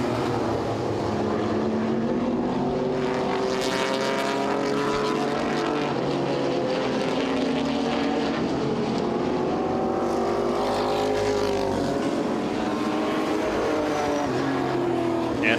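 Vintage modified race cars roar around Owosso Speedway in late laps, a dense, continuous engine drone with shifting pitch as cars pass near and far, loud throughout.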